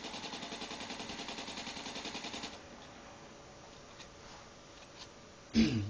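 An assault rifle fired while aiming in the video game Battlefield 3, a fast, steady burst of rapid shots for a couple of seconds, then quiet room noise and a single louder thump at the end.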